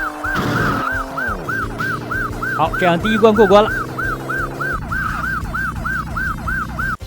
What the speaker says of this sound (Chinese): 每次发现目标车辆之后， 咱们的警笛也就挂上。